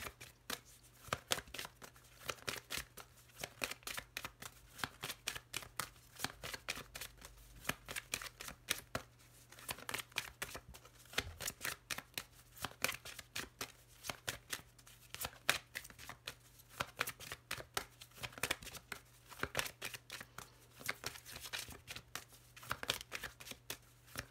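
An oracle card deck, the shadow oracle, shuffled by hand at close range: a long stretch of rapid, crisp riffling flutters and soft card slaps in a continuous rhythm, with no talking.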